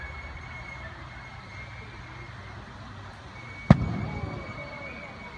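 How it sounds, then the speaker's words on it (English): A single sharp bang from a torpedo explosion in a model naval warfare display at Peasholm Park, Scarborough, bursts out of steady outdoor crowd ambience, then fades in a short rumbling tail. "As the torpedoes strike off with devastated effect"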